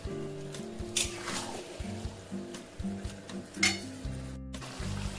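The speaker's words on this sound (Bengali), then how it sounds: "মাংসটা খুব ভালো করে কষতে হবে।" Young goat mutton pieces fry and get stirred in a pan with a steady sizzle. Scraping strokes and utensil knocks come under a low background hum.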